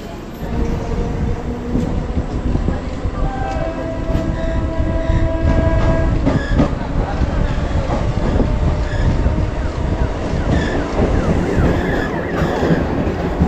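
A local train on the Sonarpur–Baruipur line rolls along with a loud, continuous rumble and clatter of wheels, while sustained horn-like tones rise and fall over it.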